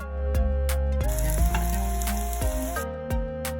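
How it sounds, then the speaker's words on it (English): Sliced plantain fries in hot ghee or coconut oil, a steady close sizzle and crackle broken by a few clinks of utensils against the pan. "Once the ghee or oil is hot enough, we add the sliced plantain."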